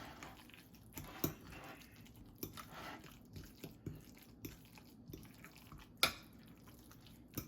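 A fork mixes guacamole with soft wet squishing and scraping, irregular quiet dabs and clicks against the bowl up close.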